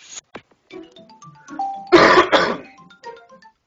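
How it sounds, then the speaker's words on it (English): A person coughs and clears their throat close to a microphone during a video game commentary, with two short sounds first, then a loud, heavy two-part cough in the middle, and quieter vocal sounds around it. "apologies for coughing my death straight into the microphone if that happens"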